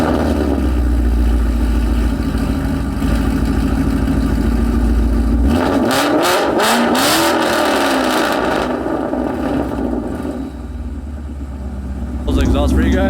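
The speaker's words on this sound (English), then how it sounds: "put the camera out here so you guys can hear the exhaust" A Mustang GT with aftermarket headers sits idling with a deep, steady exhaust rumble, then blips through several loud revs midway, falling back to a throaty idle with a brief rise near the end.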